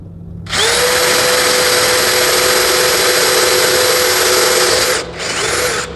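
A loud power drill whirs steadily at high speed for several seconds while drilling, briefly dips, then spins up again.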